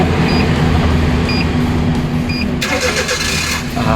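Suzuki DA64W automatic with a weak battery, its engine cranking then catching at about 2.6 seconds into a steady rumbling idle, close and loud with constant background noise.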